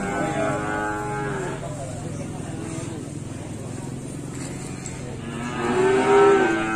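Young calves at the Gondanglegi cattle market give drawn-out moos, one at the start and a louder one near the end, over a busy background murmur of people and activity.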